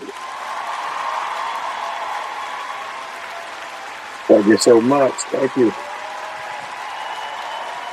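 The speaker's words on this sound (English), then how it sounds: "Y'all give him a great big hand." An audience greets a performer with steady, fairly distant applause that hisses along under the room tone, while a man close by briefly thanks the crowd.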